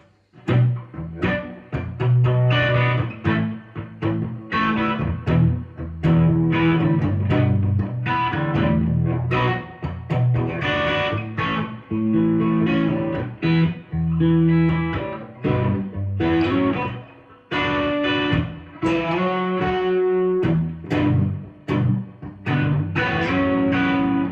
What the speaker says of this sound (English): I'm using an overdrive pedal Korg through a twin reverb.